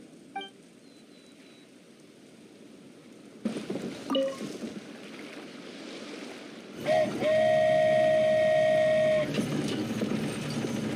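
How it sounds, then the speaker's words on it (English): A toy train in Genshin Impact departs with a rising rumble, a few clanks and a long steady whistle-like tone, followed by rolling movement, loud and close, with no talk over it. "So this is what it feels like to ride a toy train."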